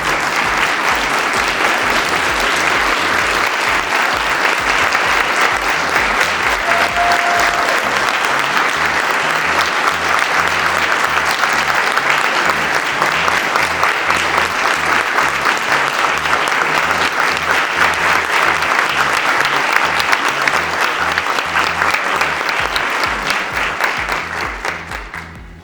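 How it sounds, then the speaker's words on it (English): A large audience at a power breakfast event claps in sustained, dense applause that holds steady for about twenty-five seconds before tapering off at the end. "Please stand so we can give him a round of applause."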